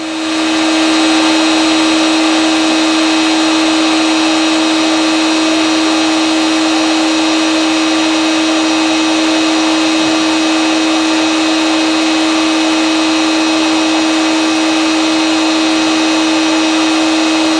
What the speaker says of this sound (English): The spindle is on.